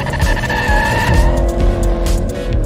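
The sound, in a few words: car shifting gear and accelerating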